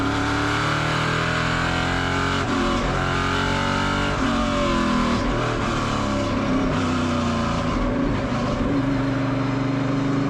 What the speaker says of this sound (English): The cars are on the way, we are rolling, and it's qualifying start for EuroNASCAR Pro.